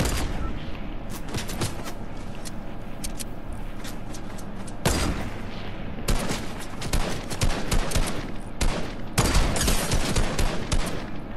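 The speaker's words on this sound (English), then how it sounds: "Shots are coming in from both directions." Dense bursts of gunfire in a Fortnite match, rapid automatic volleys and sharp shots from several weapons, loud and close with short pauses between clusters, faint talk underneath.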